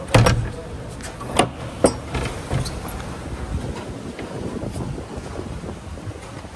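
Gusty wind at a house in Madikeri, India buffets the microphone with a rough, rumbling roar, with a few sharper thumps of gusts early on and steady blustery noise throughout.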